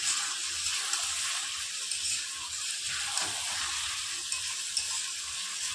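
Chicken fries in oil in a pan with a steady, soft hiss and sizzle, a few faint stirring scrapes under it, and no talk.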